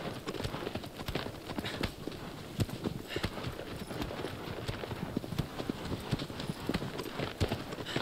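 Horse hooves in the video game Shadow of the Colossus beat in a steady, continuous galloping rhythm at close range, with faint muffled sounds underneath.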